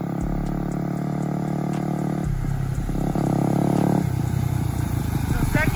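Dirt bike engine running steadily at close range, its tone shifting as the rider pops up and brakes, with clatter and a rising rev near the end and steady high-pitched engine whine throughout.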